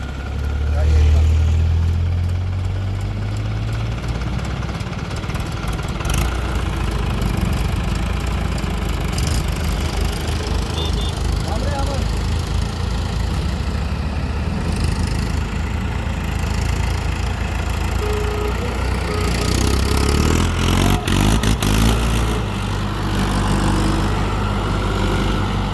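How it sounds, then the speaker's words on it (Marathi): A tractor on a road during the sugarcane factory season runs with a steady, loud, low engine drone that continues throughout, with some faint voices in the background. "फायनली आपलं ट्रॅक्टर रोडवर आलंय"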